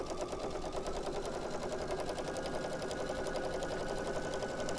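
A sewing machine stitches quilt binding in one steady, continuous run. The whirring hum holds an even rhythm and sounds soft and close, with no talking.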